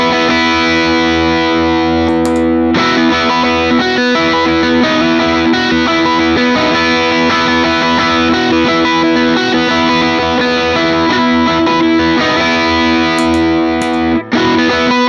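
Electric guitar played through stacked transparent overdrive pedals with lowered gain, comparing Timmy, Lightspeed and Konstante drives; a steady, loud, sustained distorted tone fills the whole stretch with a brief break near the start and a short gap near the end.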